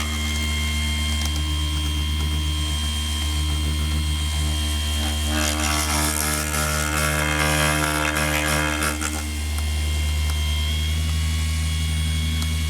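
Mirka AROP-B 3-inch cordless polisher running continuously, a steady high motor whine with strong harmonic hum; the pitch rises and roughens midway as the trigger is squeezed, then settles back to a constant drone.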